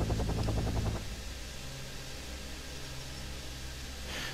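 Military helicopters in the Wargame strategy game give off a faint, steady rotor thrum and washy whir, with a rhythmic chopping pulse at first, then a continuous low rumble.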